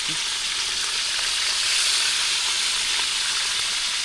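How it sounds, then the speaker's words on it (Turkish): Hot oil splattering and sizzling steadily while fish is fried outdoors, a dense continuous hiss filling the whole stretch with no voices over it. "Yağ sıçratıyor da."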